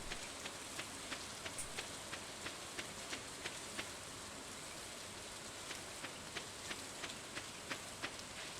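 Rain falls steadily in Stardew Valley, a soft continuous hiss with faint patters of drops on surfaces, even and uninterrupted, no talking.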